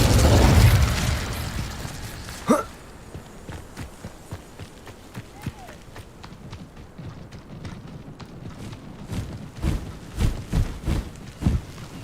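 Incendio fire spell cast in the video game Hogwarts Legacy, a loud whooshing burst of flame at the start, then a short crack and a string of lighter thuds and footsteps that build toward the end.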